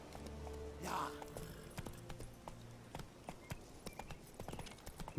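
A horse's hooves clip-clop at a walking pace in The Witcher 3 video game, faint and steady, amid quiet ambient game sound and soft scattered noises.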